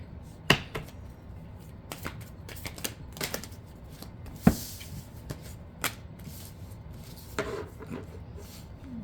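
Tarot cards shuffled for a reading: a close, dry riffling and rubbing of the deck, with sharp snaps and taps at irregular moments across the stretch.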